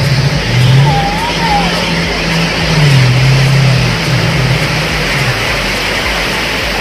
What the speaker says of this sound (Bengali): ওই একটা স্পিড বোট আসছে